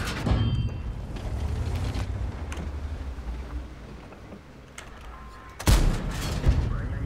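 Tank cannon shots in World of Tanks, a sharp heavy blast near the start and another loud boom toward the end, over a steady rumbling engine and battle ambience.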